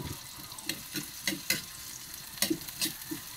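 Onions sizzle in a hot pan for sautéed pechay with sardines, a steady crackling fry punctuated by scraping stirs of a utensil at uneven intervals, close and moderately loud with no talking.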